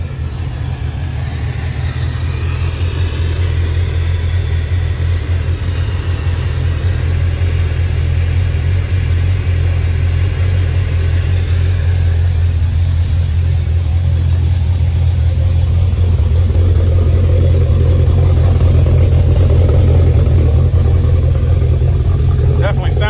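A Mercedes C63 fitted with a Weistec supercharger rumbles deeply and steadily close by, swelling slightly as it revs near the end, while people talk over it.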